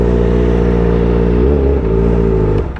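Kawasaki ZX4RR sportbike revving hard through a Zeus muffler, a loud, close, sustained high-pitched engine scream with steady harmonics that dips briefly mid-rev, then climbs again before cutting off.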